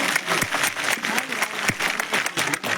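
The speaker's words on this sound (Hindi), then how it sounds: "एक जोर की ताली मेरी बहन सकीना के लिए मारो।" Crowd applause at a National Conference political rally in D H Pora, sustained dense clapping with sharp individual claps standing out and voices mixed in.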